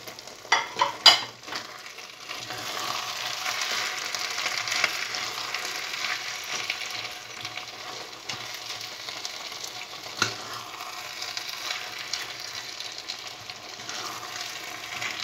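Risotto with parsley, mushrooms and broth simmering and sizzling in a pan, a steady close hiss with a few clinks of stirring near the start and no talking.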